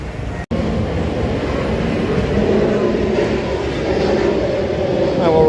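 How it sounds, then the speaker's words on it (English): A plane passes near the airport in Da Nang, heard as a steady, loud low roar and rumble that stays constant throughout, with one sharp momentary dropout near the start. "That's why you can hear that plane."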